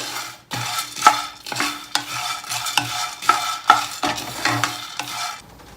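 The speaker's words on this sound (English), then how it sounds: "You definitely want to stir it constantly so it doesn't burn." Coffee beans roasting in a pan are stirred constantly, giving rhythmic scraping strokes with a soft sizzling rattle, each stir rising and falling in a loose repeating pattern up close.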